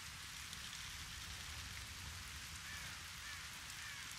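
Steady rain pours down in a medieval fantasy scene from The Witcher 2, a dense, even hiss of falling water that fills the whole stretch with no voices over it.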